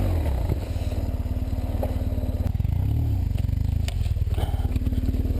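BMW GS motorcycle engine running steadily while the bike is paddled up an offroad hill, a continuous close rumble with scraping and clattering over it.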